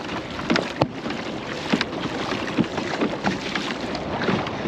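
A solo sea kayak is paddled across the ocean at dusk, with soft rhythmic paddle strokes and water swishes roughly every second over steady wind and sea noise.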